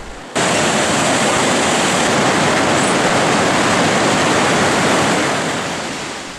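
The Devil's Frying Pan waterfall in Baños roars close by, a loud, steady rush of falling water after a brief quiet start, with no voices.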